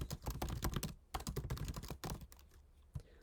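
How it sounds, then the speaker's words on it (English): Fast typing on a computer keyboard, close clattery key clicks in quick bursts with a short pause, quiet and alone. "And I'm just going to type this in."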